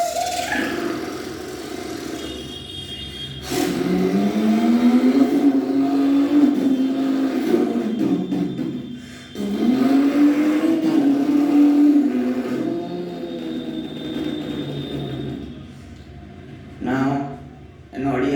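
A voice imitates a Lamborghini Huracan engine by mouth, with two long revving sweeps that climb in pitch, each lasting several seconds, separated by a short pause, close and loud over a noisy indoor background.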